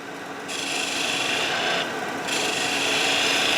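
A wood lathe spins a workpiece at speed while a tool rasps against the wood in a continuous scraping hiss, with loud steady passes briefly easing and resuming.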